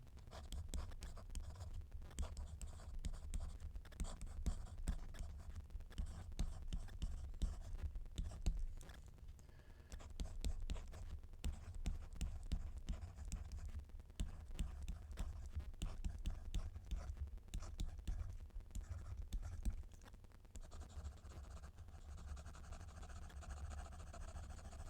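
Titanium stylus nib scratching across a screen-film-covered Tab Ultra C tablet, a quiet, close dry scraping with short irregular strokes and pauses, faint against background hiss.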